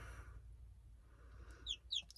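Newly bought chicks kept in a house with other chickens give a few faint, high chirps near the end of an otherwise quiet indoor moment.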